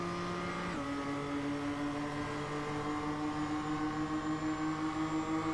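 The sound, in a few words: Toyota MR2 race car at Lime Rock, front tire squealing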